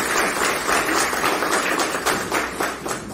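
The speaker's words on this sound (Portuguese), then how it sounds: "Uma salva de palmas para ele." An audience at a heritage-day lecture claps for a city councillor, a short burst of scattered, moderately loud applause with individual claps audible and fading slightly toward the end.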